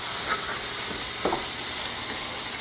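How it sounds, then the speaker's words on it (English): Vegetables sauté in a pan with tofu set aside nearby, giving a steady broadband sizzle with a couple of brief stirring scrapes, close and constant with no talk. "While this is being sauteed"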